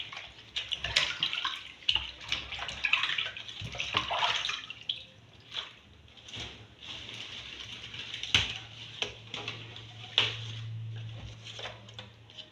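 Soursop leaves being washed by hand in water, with irregular splashes, drips and sloshing, plus occasional sharp knocks and a low hum underneath, close and fairly quiet.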